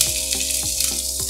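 Chopped green chilli fries in oil in a pan for a South Indian rava kuzhi paniyaram tempering, giving a steady close hiss and crackle, with a few soft stirring scrapes and no voices.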